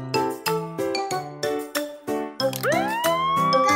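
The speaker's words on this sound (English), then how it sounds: "All police cars have sirens and lights." A police car siren in a children's nursery-rhyme cartoon plays as a series of short, bright repeated tones that rise into a rising wail near the end, with light jingling chimes mixed in.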